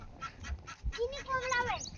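A duck quacks several times on a farm poultry shed, honking calls that climb and repeat near the end, with people talking around the bird and low bumps underneath.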